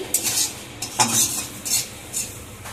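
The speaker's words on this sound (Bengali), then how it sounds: "এদিকে চিংড়ি মাছটাকেও ভাজছি, ভালো করে একটু ভেজে নেব।" Prawns frying in a pan, with a soft sizzle beneath several short, close scraping and clinking bursts of a spatula stirring against the pan, spaced irregularly over a few seconds.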